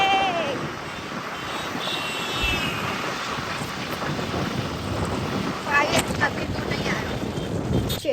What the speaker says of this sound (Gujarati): बहुत ज्यादा हवा है